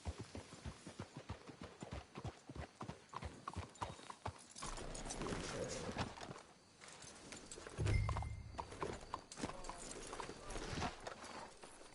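Horse hooves clip-clopping in Red Dead Redemption 2, a steady rhythmic series of close hoofbeats at a walk, later blended with rustling and a low thump, with a voice speaking over them.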